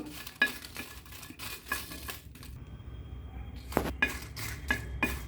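Dried Byadgi and Guntur chillies roast in a spoon of oil in a pan over low flame, with faint sizzling and repeated clinks and scrapes of a spoon stirring against the metal.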